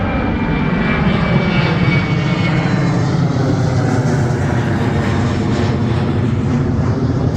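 A fixed-wing airplane flies low near Burbank Airport in Los Angeles, a steady loud engine roar filling the whole stretch without a break and with no voices.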